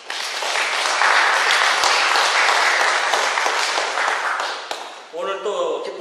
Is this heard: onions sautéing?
no